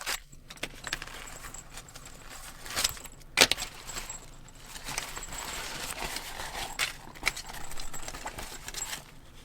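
Small accessories for a DJI Mic Mini 2 wireless microphone being pulled from a pouch, giving close, irregular jangling clinks, rustles and light knocks over several seconds, with no talking.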